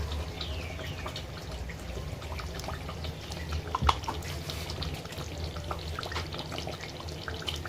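Spice masala for biryani frying in a pan while being stirred, a soft, steady hiss and crackle with occasional scraping, fairly quiet and close.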